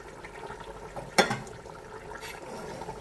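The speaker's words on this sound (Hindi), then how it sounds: "ग्रेवी करने के लिए हमने पानी गर्म किया है और हम इसमें गर्म पानी ऐड करेंगे" Hot water poured into an arvi beef curry to make gravy, a brief splash followed by a quiet, continuous bubbling wash from the pot, faint and close.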